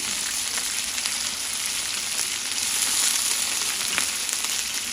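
Curry leaves, cumin and mustard seeds frying in hot oil give a steady, loud, close sizzle that crackles continuously throughout.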